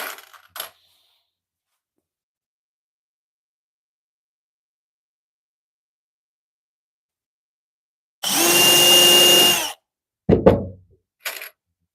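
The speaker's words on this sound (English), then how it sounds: "Luckily, these screws are countersinking good enough for me without splitting." A drill drives a countersinking screw into a wooden workbench in one loud, steady burst of about a second and a half, followed by a couple of short knocks, with silence around it.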